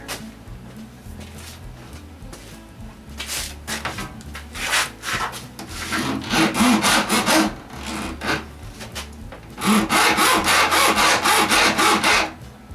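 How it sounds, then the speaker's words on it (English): Hacksaw cutting through a seized part, with rough back-and-forth strokes that start sparse and build into steady, loud sawing near the end, close by. "I doubt if the hacksaw will cut that."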